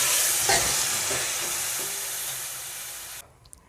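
Hissing, bubbling sizzle as the boiled water is poured into vegetables frying in a pan, loud and close at first, fading steadily before cutting off near the end.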